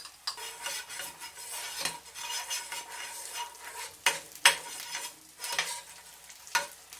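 A seafood green onion pancake fries in a pan with a continuous sizzle, broken by scraping and clinking of a utensil against the pan, close and without speech.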